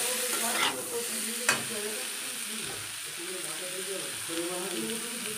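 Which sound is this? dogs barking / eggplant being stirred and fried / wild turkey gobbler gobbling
eggplant being stirred and fried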